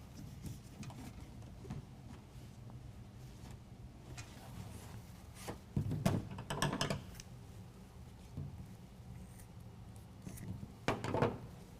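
A rubber tailgate seal is stretched out and snipped to length on a 2022 Toyota Tundra, heard as faint rubbery rustling and handling with a few sharper clicks and cuts in quiet surroundings.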